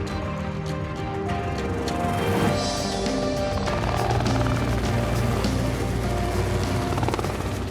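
A helicopter herds kudu toward a boma, its rotor thudding in a steady, loud chop with turbine whine, close and continuous, with no talking.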